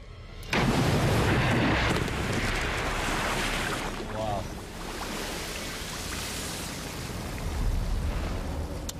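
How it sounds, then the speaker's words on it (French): A container with a small defect explodes on a gas platform test setup: a sudden loud blast followed by a sustained, roaring broadband rush that lingers for several seconds, with wind-like noise buffeting the microphone. "Ça a explosé."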